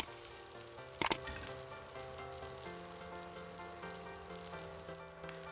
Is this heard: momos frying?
yes